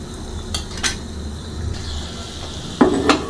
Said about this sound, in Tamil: இப்போ முந்திரி நல்லா வறுபட்டுருச்சு.